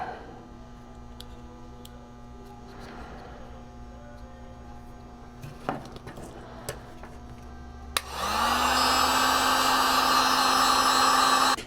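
After quiet clicks and handling, a heat gun switches on and blows a steady loud whooshing roar while shrinking heat shrink tubing on the wiring of a 1994 Z28 Camaro, the tone rising briefly as it starts.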